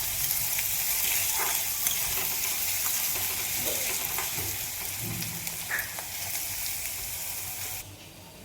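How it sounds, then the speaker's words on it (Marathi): Chopped onion frying in hot oil in a home kitchen pan for egg bhurji, a steady close sizzle and crackle with occasional stirring scrapes throughout, no talking. "आपला कांद्याला सोनेरी कलर येईपर्यंत मस्त भाजून घेऊ कांदा तेलात।"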